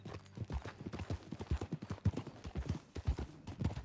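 Horse hooves clip-clopping in a steady riding rhythm in Red Dead Redemption 2, close and distinct with no talk over them.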